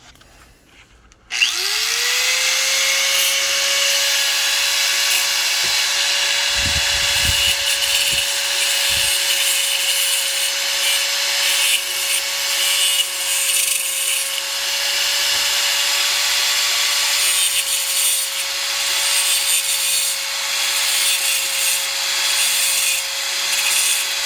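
A power saw cuts through wood for a hanging chicken meat basket, starting abruptly and then whining at one steady pitch for over twenty seconds, close and loud, with a few low knocks early on.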